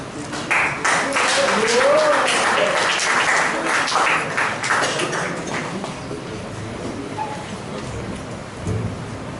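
A crowd at a Toastmasters club meeting claps loudly at first, the applause thinning and fading into a murmur, with a voice faintly audible near the start.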